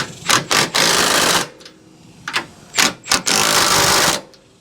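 Coilover nuts on an 8th-generation Honda Civic Si suspension are tightened with a power tool, loud close bursts of rapid ratcheting in several short and long runs separated by brief pauses.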